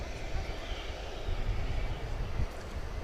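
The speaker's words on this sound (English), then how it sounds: "Flight 1865 coming in from Houston, an Airbus A321." An Airbus A321 arriving at DFW Airport at night, a faint, distant jet rumble and roar that swells slightly and holds steady over a few seconds, with no talking.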